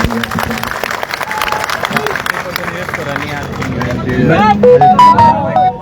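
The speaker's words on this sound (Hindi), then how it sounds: "एक बार जोरदार तालियां मुख्यमंत्री जी।" Crowd at a protest sit-in site clapping over a lively hubbub of voices, the applause building toward the end as whistles or shrill calls rise above it.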